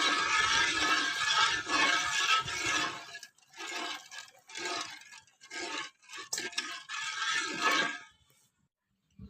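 Thick urad dal porridge being stirred in a pot on the stove, with repeated wet scraping and squelching strokes in irregular bursts, heard close.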